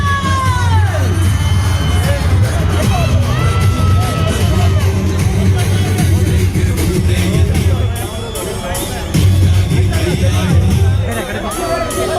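A large crowd at a silver jubilee event roars continuously as actor Darshan is welcomed, a loud, dense wash of cheering, whoops and shouting voices with a brief dip before swelling again.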